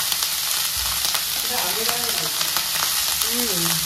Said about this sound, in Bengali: এই হলো ফোড়ন, লাউগুলো দিয়ে দিই